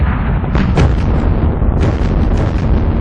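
Explosions from vehicles destroyed in a modern-era war strategy game rumble as a dense, continuous barrage of heavy booms and blasts, loud and close, with no voices.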